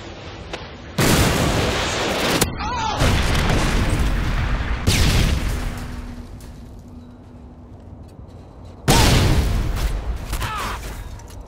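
A Predator missile strike in Modern Warfare 2 lands as a series of heavy, loud booming blasts, roughly three separate detonations spaced a few seconds apart with rumbling decay between them amid game noise.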